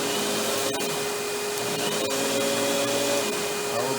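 A Hoover WindTunnel canister vacuum cleaner runs with its power brush switched on, giving a loud, steady motor drone with a fixed whine that holds unbroken throughout.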